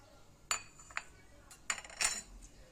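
A spoon scrapes and clinks against a dish while baba ghanoush is stirred together with yogurt, salt, cumin, lemon and vinegar, several short irregular knocks over a quiet background.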